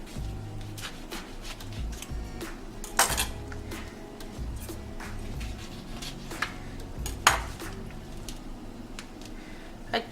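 Lemon and chili being cut on a cutting board for a coconut curry shrimp dish, with repeated soft knife taps and clinks against the board, plus a couple of sharper louder strikes, close and alone without talk.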